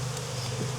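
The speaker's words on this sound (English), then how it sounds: "So bees everywhere." Honeybees buzz in a dense, steady hum around an open hive in Jacksonville, Florida, close and continuous.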